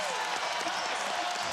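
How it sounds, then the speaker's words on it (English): Basketball arena crowd buzzing after a Bogut three-pointer in a Warriors home game against the Pelicans, a dense continuous roar of cheering and clapping heard up close. "Crowd still buzzing over the Bogut 3."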